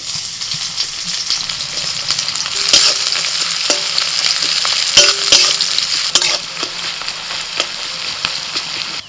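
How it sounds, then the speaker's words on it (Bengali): Chopped onions fry in hot mustard oil in a wok, giving a loud, continuous close sizzle broken by repeated clinks and scrapes of a stirring utensil, with no voices. "কড়াইতে সর্ষের তেল দিয়েছিলাম তেল গরম হয়ে গেছে দিয়ে দিচ্ছি পেঁয়াজ কুচি"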